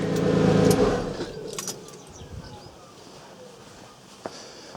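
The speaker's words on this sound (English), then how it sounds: "let me just turn the engine off because it is a tad noisy." A Porsche 911 996 C4S with an air oil separator fault is switched off: a loud idling engine rumble close by, keys jangling, then the engine cuts out within about a second, leaving quiet ambience with faint birds and a small click.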